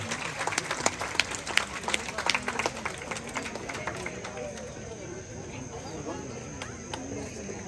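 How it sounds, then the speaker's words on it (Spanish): Scattered applause from guests at a quinceañera party, moderate and uneven, sharp claps bunched early then thinning into a lighter patter, with voices talking over it. "Barrios, el aplauso."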